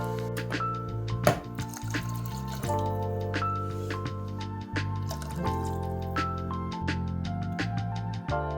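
Water is poured into a cooking pot for dirty rice, giving a loud, close, continuous splashing and gurgling pour with bright dripping notes throughout.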